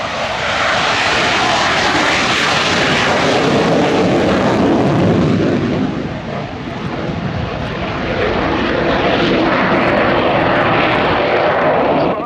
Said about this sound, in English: the cutting edge of the modern day Czech Air Force rolling now, the Saab